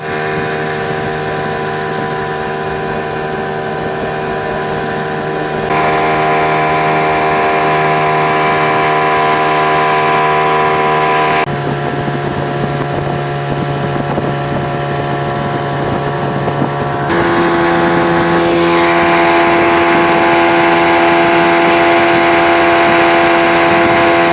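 A motorboat engine on the River Medway drones steadily and loudly throughout, its pitch shifting in a few distinct steps, with wind buffeting the microphone and no one speaking.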